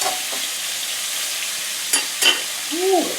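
Thin slices of beef hit a hot pan and sizzle, a steady close hiss with a few brief scraping stirs near the end.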